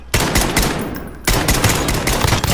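SKS rifle gunfire in the Warzone video game, with dense, loud bursts of shots. A long volley is followed by a short gap and then another sustained volley, heard up close.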